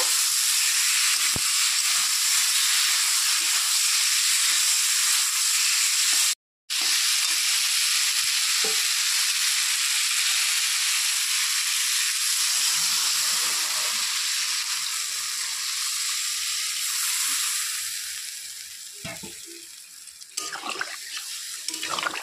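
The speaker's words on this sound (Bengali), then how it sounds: "এখন ঝিঙে আলু দিয়ে দিলাম, দিয়েছি নেড়ে চেড়ে নেব।" Ridge gourd and potato pieces fry in spiced oil in a pan, giving a loud, continuous hissing sizzle broken by a brief dropout and stirring clatter, with the sizzle easing and growing choppier toward the end.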